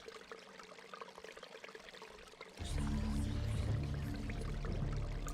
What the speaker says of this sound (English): What sickly liquid is this draining into the pool, trickling from a scum-encrusted spout?